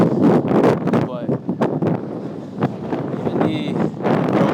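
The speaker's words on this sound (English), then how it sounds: "It's very windy today" Gusty wind buffets the microphone in low rumbling bursts while a person speaks outdoors.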